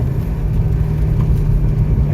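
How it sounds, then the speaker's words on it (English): Car engine revving briefly during a rev-matched downshift as the car slows to a stop, a steady mid-pitched engine drone heard close and loud without talk. "At the end, you just rev match."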